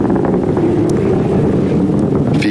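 An Atlas V rocket carrying the Starliner capsule climbs through supersonic speed after launch from SLC-41 at Cape Canaveral, a steady, broad, rumbling roar heard from a distance with no pause.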